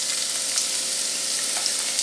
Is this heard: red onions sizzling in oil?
yes